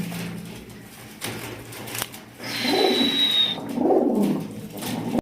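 Pigeons cooing in a seller's loft of large-sized pigeons, low murmuring coos rising in two clear bouts over a steady background of rustling and faint chatter.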